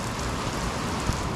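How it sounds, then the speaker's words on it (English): Rain comes down on a farm, a dense, steady hiss of drops pattering on surfaces, close and unbroken for the whole stretch. "Now we're getting a little bit of rain coming down"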